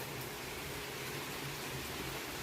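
Heavy morning rain falls over a Punjabi village as a steady, dense broadband hiss, constant and close throughout with no talk.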